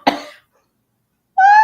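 A woman coughs from laughing hard during a wrestling podcast chat: one sharp, close cough burst that trails off, then a pause before a higher, tonal voice-like sound at the end.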